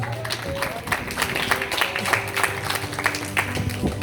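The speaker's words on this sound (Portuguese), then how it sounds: "Aplauda Jesus." A church congregation applauds during a service, giving irregular, fairly close clapping over a steady background hum and murmured voices.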